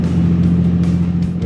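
Land Rover Defender engine revving hard while climbing an off-road hill, a loud, steady low drone close by with no talk.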